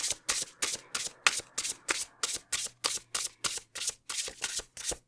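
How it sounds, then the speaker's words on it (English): Oracle cards are shuffled in a quick, regular rhythm, about three riffles per second, close and crisp with nothing else around. "Not a very good shuffle there."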